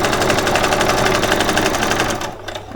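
A sewing machine runs steadily, stitching an embellishment for a doll's dress. The fast, even needle rhythm is loud and close, then stops just before the end.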